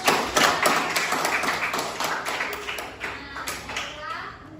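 A classroom of children claps together in quick, rhythmic bursts that gradually fade and thin out, with young voices mixed into the clapping.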